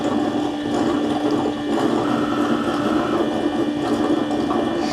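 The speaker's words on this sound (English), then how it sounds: "The mop pads are spinning, and then the dirty water pump is sucking up the water into the dirty water tank." A Eufy Omni C20 robot vacuum base station washes its mop pads, spinning pads and a pump whirring and sloshing water in a steady, close mechanical hum with no talking.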